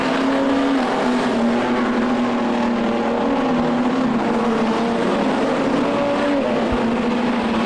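Modified production race cars at Lismore Speedway roar at full throttle through a turn, a loud continuous engine drone with shifting pitch from several cars close together.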